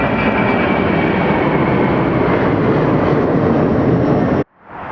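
A jet airliner departs Atlanta's Hartsfield-Jackson airport. It gives a loud, steady, broadband roar that fills the air near an observer and then cuts off abruptly near the end, with no talking.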